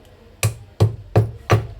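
Four sharp, evenly spaced thuds of pounding, close and loud, each ringing briefly before the next strike.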